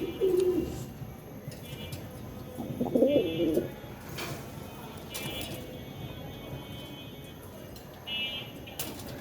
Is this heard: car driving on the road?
no